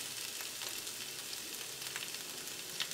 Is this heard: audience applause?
no